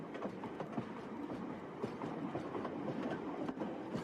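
Train rolling along rails with a steady low rumble and a faint rhythmic clickety-clack, heard from inside the car at moderate level with no voices.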